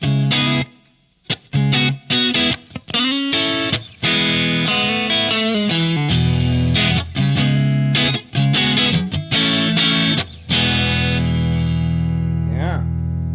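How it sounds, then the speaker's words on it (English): Distorted electric guitar through a prototype 6L6 tube amp at low voltage, with slapback echo and light reverb, playing strummed chords and single-note lines with sharp stops and a long ringing tail at the end. "And a little bit of light reverb."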